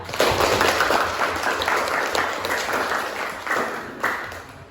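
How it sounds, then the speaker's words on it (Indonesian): A classroom of students claps for a group that has just presented, a fairly close burst of uneven hand clapping that thins and surges in waves before tapering off. "Beri tepuk tangan dulu untuk kelompok 3."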